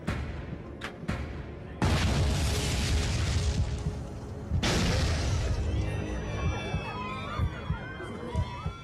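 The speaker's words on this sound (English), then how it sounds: "Two explosions rock the plane." Two sudden loud blasts hit a Japan Airlines Flight 123 airliner, each followed by a broad roar, with cabin noise and faint voices afterward.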